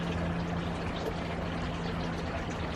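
Water poured over newly planted aeonium succulents in a potting tray, a steady close splashing pour running unbroken for a few seconds with a faint low hum beneath, no voices.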